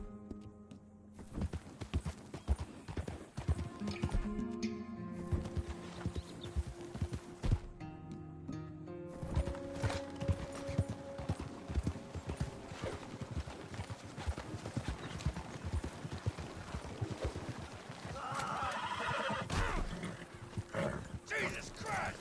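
Horse hooves clip-clop at a gallop in the Red Dead Redemption 2 video game, a steady rhythmic pounding running through the whole stretch, with a shouted command, a whinny and snatches of speech and music layered over it.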